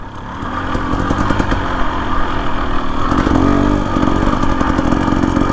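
A 2025 Husqvarna TE 250 with an FMF exhaust rolls slowly in second gear, its engine holding a steady, close, continuous drone that swells slightly partway through, with no talk over it.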